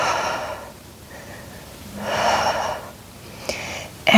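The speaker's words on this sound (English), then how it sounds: "Nice big exhale." Audible breaths during a Pilates exercise: two long, airy exhales that swell and fade, separated by a quieter pause, followed by a brief sharp click and a short intake at the end.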